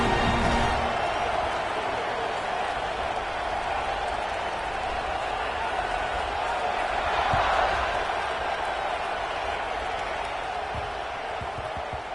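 Stadium crowd at a Texas football game just before kickoff, a broad steady roar swelling slightly midway and sustained throughout under a commentator's talk.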